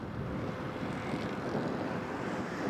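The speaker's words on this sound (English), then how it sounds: "Ryanair's just doing a couple of orbits" A Ryanair airliner circling over Prestwick Airport gives a distant, steady engine roar that stays even and continuous, with faint wind noise and no voices.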